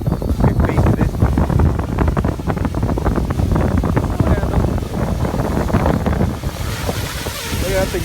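Extreme wind buffets a Parrot Bebop 2 drone in flight, producing a loud, constant low-frequency rumble and gusting roar that churns without a break and eases slightly near the end.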